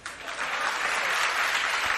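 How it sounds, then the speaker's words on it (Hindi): Weak audience applause during an afternoon sermon by Acharya Vidyasagar Ji Maharaj at Chandragiri Tirth, a brief swell of scattered clapping from a crowd, fairly soft and steady. "क्यों भैया, इसमें तालियां तो कमजोर हो गए।"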